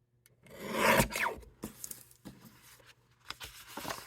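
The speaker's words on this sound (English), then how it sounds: "Then we're going to trim just enough off each edge to get it to be able to open." Paper card edges being trimmed on a craft paper trimmer, giving close rasping, rubbing slides with a longer stroke near the start and several shorter scrapes after, no talking.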